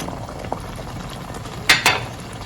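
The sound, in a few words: stirring beef stew with stock in a pot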